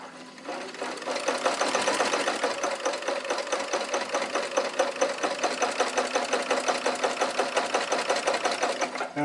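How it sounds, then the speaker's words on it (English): A sewing machine runs a continuous straight stitch along quilt binding, its fast, even needle chatter loud and steady for several seconds, close up and with no talking over it. "So I simply just do a straight stitch all the way down here."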